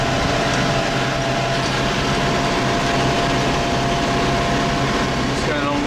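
Farm tractor engine passing close on a country road, a steady loud droning rumble with a faint whine, running continuously with no clear speech.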